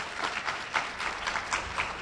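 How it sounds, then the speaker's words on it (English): An audience claps for dancers at a student academic excellence celebration, a steady patter of applause in a hall that stays even for the whole moment with no speech over it. "Let's give our dancers another round of applause"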